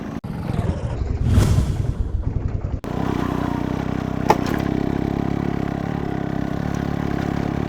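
A motorcycle ridden along a rural road in a forest area, its engine roaring loudly and steadily nearby, with a brief rising rev early on before a continuous rumbling drone.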